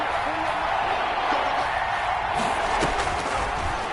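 Stadium crowd noise from the football video game Madden 21, a steady roaring wash of fans holding at one loud level across the whole stretch, with a faint voice buried in the din.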